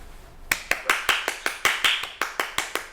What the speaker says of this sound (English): I'm applauding